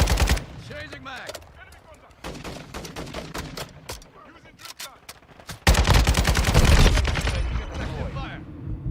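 An RPK light machine gun in Call of Duty Modern Warfare II fires loud, close automatic bursts, short ones at first and then a long sustained string, with faint radio chatter in the background.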